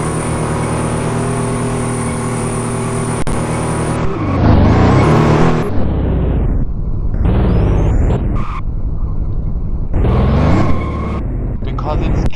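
Porsche Panamera with a turbocharged engine drifting and driving in a Roblox game set in Uxbridge county, London, a steady loud engine drone with revving swells, heard under continuous talk.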